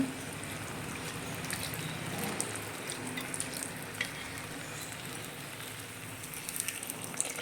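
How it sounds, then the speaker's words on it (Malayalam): Neiyappam, a Kerala snack of batter, frying in hot oil with oil being ladled over it, a continuous crackling sizzle with bubbling, steady and close, no voices. "കുറച്ച് എണ്ണ ഇങ്ങനെ കോരി ഒഴിച്ചു കൊടുത്താൽ പെട്ടെന്ന് നമുക്ക് അകത്ത് മാവ് ഉണ്ടെങ്കിൽ അത് വെന്ത് കിട്ടും"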